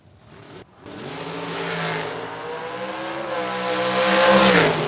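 A junior dragster launches and runs down the strip at a Jr. Dragster Nationals drag race, its small engine droning in a steady rising pitch that grows louder toward the end, with a brief gap near the start.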